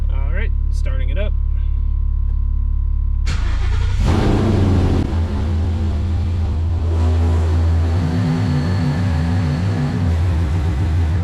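A 2017 Mustang GT fires up abruptly after a quiet stretch, cranking into a loud burst that settles into a steady, deep idle; a person talks briefly before the start.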